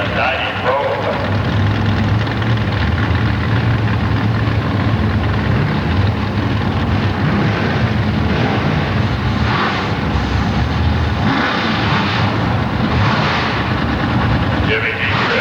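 A 1990 Ford Probe drag car from Varsity Ford and McCormick Racing at Milan Dragway, its engine delivering a loud, continuous roar with surging bursts, heard over a track announcer's voice.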